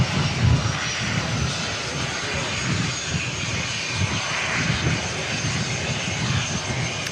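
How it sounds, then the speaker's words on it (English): Steady, loud roar of a small jet aircraft engine near a New Zealand airport, a broad continuous rumble and whine holding for several seconds with slight swells, no talk over it. "What a noise for a little jet."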